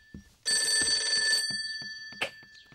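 A telephone bell rings indoors in one sustained, bright, trilling burst lasting about a second, loud and close, followed by a few faint knocks and a brief sharp click.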